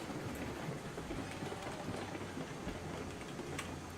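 Steam locomotive running in Railroads Online, a steady rumbling chug with faint rail clatter and hiss, continuous and moderately loud throughout with no voices.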